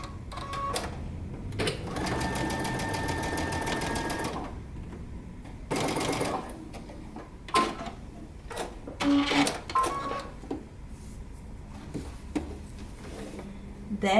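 Sewing machine stitching a foldover clutch, with bursts of rapid mechanical stitching of a few seconds each, separated by pauses with small handling clicks, close and fairly quiet.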